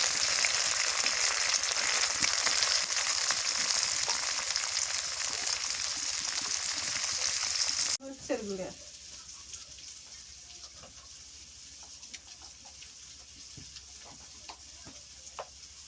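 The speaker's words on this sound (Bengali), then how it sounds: "তেল বেশি করে দিচ্ছি তো পেঁয়াজ দিয়ে দিই" Hot oil hisses loudly and steadily for several seconds, then the sizzle drops to a quieter crackle with scattered pops as onions fry.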